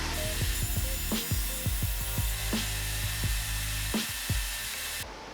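Wood boards being cut to length with a power saw for a folding puzzle mat table. Repeated short rasping cuts and scraping knocks follow one another at a steady pace, fairly quiet and close, ending in a brief hush.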